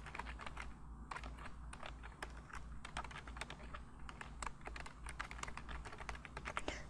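A slide title is typed into PowerPoint 2013 on a computer keyboard, giving a quick, steady run of close, light key clicks over a low background hum, with no voice.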